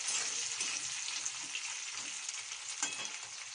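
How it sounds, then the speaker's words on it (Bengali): Dry fruits fry in a pan for a Bengali-style paneer pulao, a steady close hiss of hot oil with a few faint crackles and a light stir, no one speaking. "ড্রাই ফ্রুটসগুলো এইভাবে আমি একটু ফ্রাই করে নেব।"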